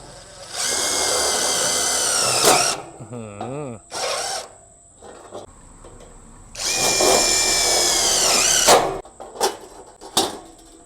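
A Tigron cordless drill driving screws whirs in two sustained bursts, winding up and stopping, with short clicks and rattles in between, close and loud.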